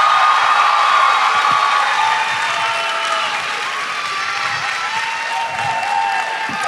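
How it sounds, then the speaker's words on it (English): Student audience in a room applauding after the student body president is introduced, loud sustained clapping with a few cheers that eases slightly but continues throughout. "Everyone, a round of applause for your student body president and Mason."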